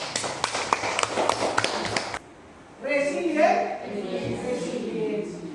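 An audience applauds for Michelle in a brisk, dense burst lasting about two seconds, then stops abruptly and a voice begins talking.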